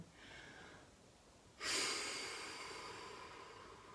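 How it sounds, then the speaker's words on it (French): Deep inhalation during a gentle stretching and abdominal session, a long airy breath drawn in close to the mic, swelling suddenly and then tapering off slowly, with a softer earlier breath before it. "J'essaie de faire rentrer le plus d'air possible."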